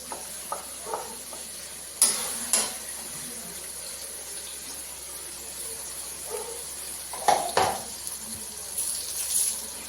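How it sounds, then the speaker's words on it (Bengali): Ground spice paste is added to tomato and onion frying in a pan, giving a steady soft sizzle with a few sharp utensil clinks and scrapes against the cookware. "এখানে আমি পেস্ট করা মশলাটা দিয়ে দেব"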